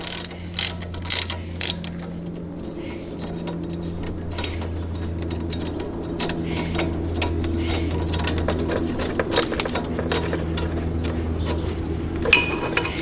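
A hand ratchet backs out a 10mm screw holding an ABS wire bracket during front strut replacement on a Ford Escape, Mazda Tribute or Mercury Mariner: a few loud clicks, then long runs of steady close ratcheting.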